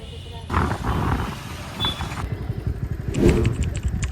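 A motorcycle being ridden home revs and roars up close, its engine droning unevenly with a louder surge near the end, while people talk over it.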